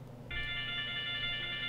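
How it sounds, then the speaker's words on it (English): A phone starts ringing partway through with a steady electronic ringtone during a community-building talk session, moderately loud against quiet room tone, with no speech over it. "Oh, there goes his phone."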